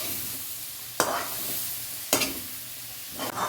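Onions sautéing in a pan for chicken curry with curry leaves, a steady close sizzle broken by three sharp scraping stirs at roughly one-second intervals, no voices.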